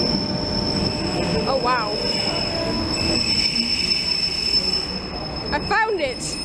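Local commuter train arriving at a platform in Prague, a steady rumbling roll with intermittent high wheel squeals, close by, and a brief voice speaking over it.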